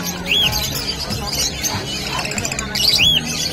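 Green opaline parakeets at a Malabon pet market give two short, bright chirps about three seconds apart over a busy background murmur.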